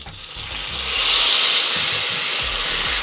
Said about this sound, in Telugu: కొన్ని కలిమాకు ఆకులు వేసుకున్నాము చిటపట అంటునే